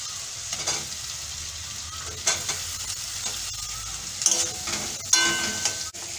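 Chopped tomato fries in spices in a pan for vegetable khichuri, giving a steady close sizzle broken by a few scraping stirs of a spatula, with no talking.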